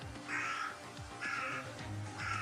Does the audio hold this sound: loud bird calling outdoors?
yes